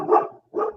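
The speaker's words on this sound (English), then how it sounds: "Oh, there goes my dog." A dog barks twice nearby, two short, loud woofs separated by a brief pause, heard on its own without talking.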